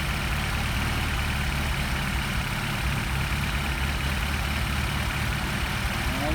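A Mercedes 190SL engine fitted with Solex carburetors idles at steady revs, a low, even mechanical rumble heard close and alone without any change in pitch.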